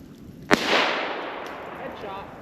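A single sharp gunshot cracks while squirrel hunting in a snowstorm, a close report followed by a fading outdoor tail.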